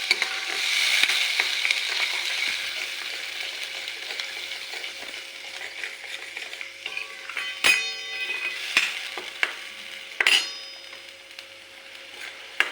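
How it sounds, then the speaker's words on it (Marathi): Grated coconut roasting in hot oil in a pan for a Maharashtrian katachi amti curry, a steady soft sizzle with scraping stirs and several sharp metallic clinks of a spoon against the pan. "खोबरे जरा भाजून घ्यायचे तेलात"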